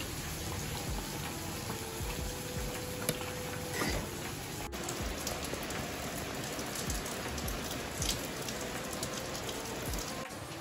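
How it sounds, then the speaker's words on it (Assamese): Steady rain falls during wet weather, a dense, even hiss of drops pattering on surfaces, continuous and fairly close throughout, with no voices. "আজি বৰষুণৰ বতৰ"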